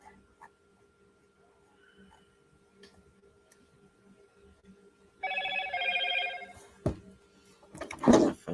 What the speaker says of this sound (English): My phone's going off.